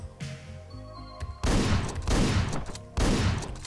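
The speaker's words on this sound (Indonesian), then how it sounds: "shotgun." Shotgun blasts in the video game Hotline Miami 2, two heavy booming shots about a second and a half apart, loud and close over quieter game sounds, with no voices.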